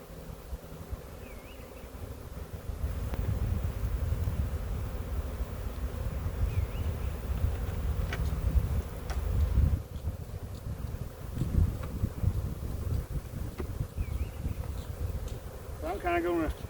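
Honeybees from an early swarm hum steadily around an open hive being worked frame by frame, a dense close buzz that rises and holds, with faint rustling and occasional handling noises.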